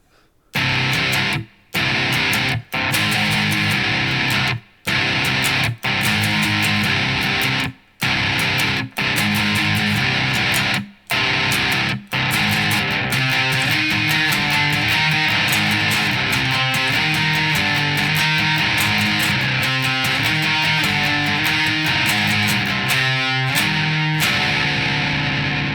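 Heavily distorted electric guitar plays the closing section of a song, loud chord stabs separated by sharp stops, then a sustained ringing passage to the end.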